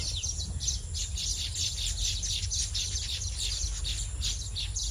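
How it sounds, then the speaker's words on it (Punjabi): Many birds chirp and tweet continuously in a dense, busy chorus over a low steady outdoor rumble, with no voices. "ਪੰਛੀਆਂ ਦੀ ਚੀਚਿਆਟ ਉਹਦੀ ਬਹੁਤ ਸੋਹਣੀ ਲੱਗਦੀ ਇੱਥੇ ਆਵਾਜ਼ਾਂ ਕਰਦੇ"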